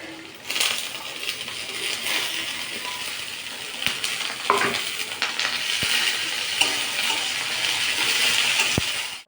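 Vegetables stir-fry for chowmein, a steady moderate sizzle with sharp metallic clinks and scrapes of a utensil against the pan scattered across it, no speech.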